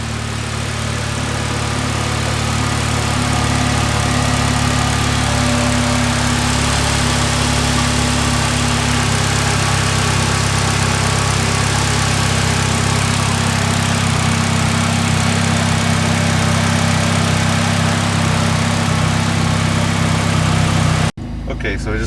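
A turbocharged Mitsubishi Lancer idles steadily just after a cold start, a loud, constant close-up engine drone with a low hum that runs unbroken for over twenty seconds before cutting off abruptly.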